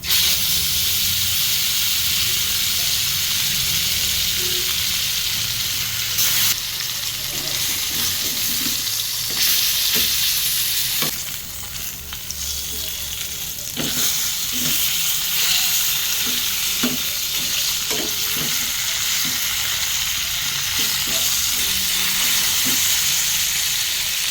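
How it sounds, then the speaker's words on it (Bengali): Bata fish rubbed with turmeric and salt fry in hot oil in a home kitchen. A loud, continuous sizzle and hiss runs throughout, with occasional clicks and scrapes of stirring. "তেল গরম হয়ে গেছে চলো মাছগুলো আমি ভেজে নিই"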